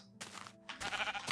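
A sheep bleats in Minecraft, two short, wavering cries in a row with a brief gap between them, close and clear, with no talk over them.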